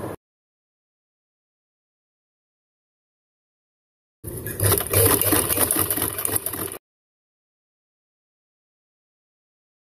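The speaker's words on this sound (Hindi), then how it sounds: "इसके ऊपर भी इसी तरह से सिलाई लगा लेनी है" Domestic sewing machine running a line of stitching along an invisible zip on fabric, a steady mechanical whir with rattle lasting about two and a half seconds mid-clip, surrounded by silence.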